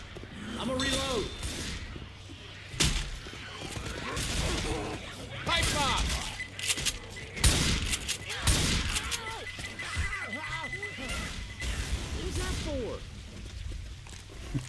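Gunfire rings out in a co-op match of Left 4 Dead 2, with repeated shots and volleys throughout while players talk over the action.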